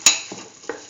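A spoon stirs chayote, peas and rice in a pan. There is one sharp metallic scrape at the start, then two softer scraping strokes spaced apart, all close and with no voice.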